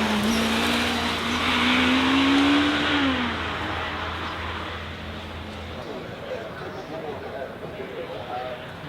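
Czinger 21C hypercar, 1233 horsepower, with a 2.8-litre engine accelerating up the Goodwood hill, a loud rising engine roar that peaks early then fades into a broad rushing noise as the car moves away.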